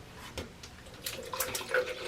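Distilled water poured into a quart measuring cup while mixing color film developing chemicals, a soft, close trickle and splash that runs steadily for a couple of seconds with a few louder gurgles.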